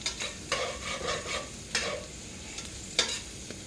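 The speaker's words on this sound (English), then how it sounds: "Let that simmer in there." Beef for Philly cheese steak cooking in a pan, a soft continuous sizzle punctuated by several sharp scraping stirs at irregular intervals, close up with no talking.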